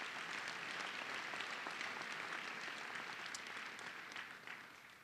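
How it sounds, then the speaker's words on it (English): Sustained audience applause fills a senior scholar athlete recognition ceremony, with many hands clapping evenly at moderate volume for about five seconds and slowly tapering off near the end. "Give them a round of applause, please."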